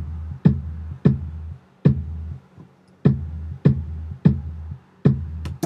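Subby 808-style kick built in Logic with gate settings, a repeating deep thump with a sharp click attack and short, clipped low tail, hitting in a steady pattern with one brief gap, close and solo.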